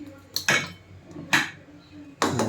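A metal pot set onto a pot of heated water for steaming kothimbir vadi, a Maharashtrian coriander snack, gives three sharp metallic clanks spaced about a second apart, close up in a quiet kitchen.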